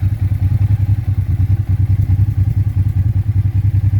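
A Honda Transalp motorcycle with an aftermarket exhaust idles close up with a deep, rapid rhythmic thudding pulse, loud and steady throughout with no talking.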